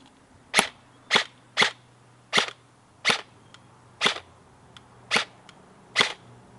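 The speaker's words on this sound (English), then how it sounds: "now we're going to shoot it with some BBs with the normal flash hider" Eight evenly spaced, crisp shots from an airsoft gun firing BBs through a standard flash hider, each a sharp, close snap separated by roughly half-second gaps against a quiet background.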